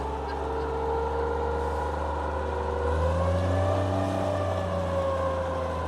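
A fire engine's pump engine is held at about 2,000 rpm, giving a steady, loud, droning hum with a strong low tone and slowly wavering harmonics throughout.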